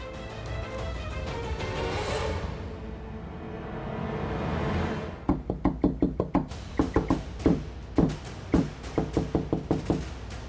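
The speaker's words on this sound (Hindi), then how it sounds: "दरवाजा पीटने की आवाज कहां से आ रही है?" Someone bangs hard on a door in a scene from a Hindi TV drama: a run of loud, close knocks in uneven bursts, following a stretch of sustained music.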